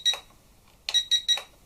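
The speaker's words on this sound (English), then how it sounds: "3 beeps" An FQ777 126C Spider hexacopter with HD camera gives three short, bright electronic beeps in quick succession while binding to its transmitter, following a single earlier beep, clear and close in a quiet room.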